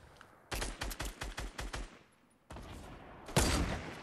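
Fortnite gunfire: a rapid volley of about seven loud shots, a brief lull, then more firing and a heavy burst near the end, all close and sharp.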